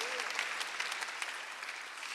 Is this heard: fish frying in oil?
no